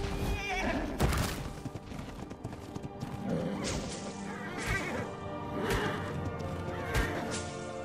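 A horse in the video game ARK Survival Evolved gives several sharp whinnies spread across the clip, mixed with clip-clopping hooves and game clatter, and no one speaks.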